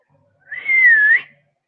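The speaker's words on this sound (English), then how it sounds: "That's a terrible whistle." A single short whistled note, close and clear, gently sliding in pitch and lasting under a second against silence.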